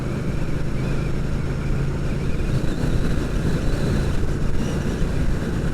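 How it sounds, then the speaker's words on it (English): Steady, loud wind buffeting the microphone during a drive on road test routes in Erith, a constant low rumble with no pauses and no voices. "My god, it's quite windy today."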